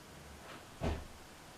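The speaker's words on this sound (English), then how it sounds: "And the door slams." An indoor door slams shut once in a quiet room, a single short thud of moderate loudness with faint room hum before and after.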